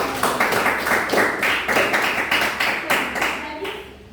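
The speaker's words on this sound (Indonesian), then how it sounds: "Oke, tepuk tangan." A class of students clap their hands together in a classroom, a dense, loud run of claps with a slight rhythmic pulse that keeps going for several seconds before thinning out at the end.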